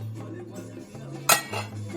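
A single sharp clink of cutlery against dishes as slow-cooked pot roast meat is lifted from the pot onto a plate, heard over a low steady kitchen hum.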